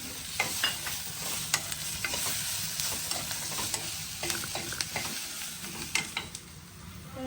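Garlic dropped into frying onions in a pan, cooked for amti, sizzles steadily at close range with scattered scrapes and clinks of a stirring spoon throughout, no talk.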